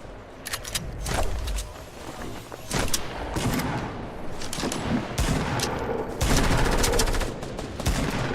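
Rapid pistol gunfire in a Halloween-update video game, bursts of close, loud shots in uneven clusters with brief pauses, and no talking.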